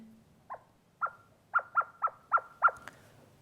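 A person imitates a blackbird's call with a series of sharp, whistled chirps, first spaced out and then coming in a quick rhythmic run of about eight notes. The chirps sound close and clear against a quiet background.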